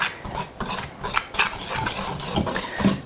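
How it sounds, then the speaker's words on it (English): A whisk stirs dry ingredients for vegan gluten-free mini donuts in a bowl, making close, rapid rhythmic scraping and clinking strokes that pulse about twice a second. "just grab yourself a whisk, and you're just gonna whisk all of these ingredients together"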